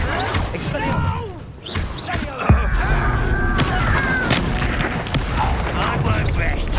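Spellcasting and combat in Hogwarts Legacy, with an Expelliarmus cast among repeated booms, crashes and thuds, including a sharp hit near the middle, over a constant dense battle rumble with voices shouting.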